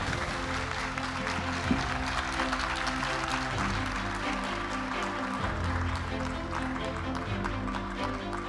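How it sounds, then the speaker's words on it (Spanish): Applause from an audience at a journalism award ceremony in Barranquilla, a sustained wash of clapping mixed with crowd murmur and a low background hum, with voices faintly audible underneath. "Fuerte el aplauso."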